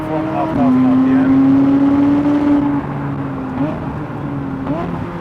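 A McLaren 570S (2016) engine pulls steadily in third gear at 4,500 RPM, a loud sustained droning tone heard from inside the car that slightly dips and shifts near the end.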